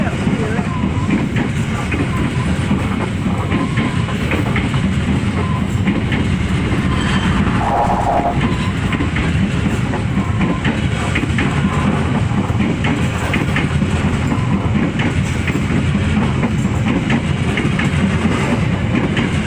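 A Jaya passenger train rolls loudly and steadily through a station, its rumble and clatter filling the whole stretch without a break.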